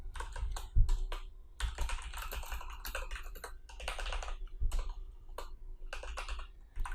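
PHP code is typed on a computer keyboard in quick bursts of clicking keystrokes separated by short pauses, close and moderately loud.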